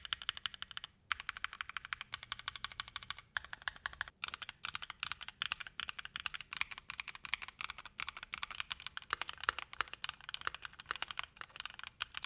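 Rapid, steady typing on a keyboard fitted with a medical fabric tape mod, the keystrokes dense, crisp and close, with no talking.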